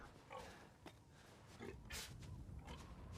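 A pig grunts and snorts in Resident Evil, quiet, rough bursts in short irregular spurts over a low, noisy game background.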